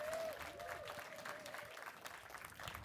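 Applause from a workshop audience at a festival talk, a steady patter of many hands with a whistle-like tone near the start, fairly distant and moderately quiet throughout.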